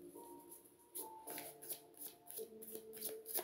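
Oracle cards shuffled and drawn by hand, a soft papery riffle and shuffle with repeated brief flicks and slides, close and fairly quiet, with no talking.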